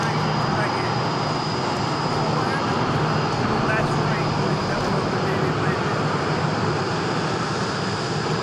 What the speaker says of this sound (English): It's so loud because they're engines,